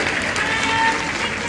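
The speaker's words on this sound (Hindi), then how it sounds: "एक लाइन लगा के और ताली बजा के सुना दो" Crowd clapping at a BJP election rally in Gulabpura, Rajasthan, a loud, continuous patter of many hands with a faint voice carrying over it.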